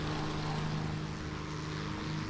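A propeller fighter plane's engine drones steadily in War Thunder, a low continuous hum with a faint tonal whine, quiet and unbroken.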